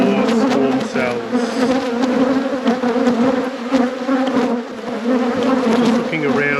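Honey bees buzz loudly and steadily around an open hive box in an apiary during an inspection, a dense close-up drone with individual bees swelling in and out, with no talk.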